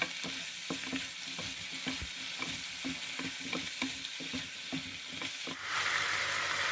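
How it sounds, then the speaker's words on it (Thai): Instant noodles with vegetables are stir-fried in a pan, with a fairly regular run of scraping and tossing strokes over a steady sizzle that swells louder near the end, heard up close with no talking. "ก็ผัดส่วนผสมทุกอย่างให้เข้ากันนะคะ"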